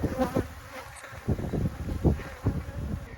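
Bees buzz steadily around a hive, a dense droning hum with a few louder insects passing close.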